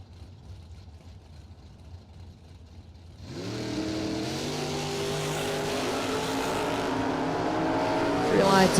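Drag race cars, a Chevy II and a Roadster, idle at the line before engines surge into a loud, rising roar that builds toward the end, with an announcer talking faintly beneath at first.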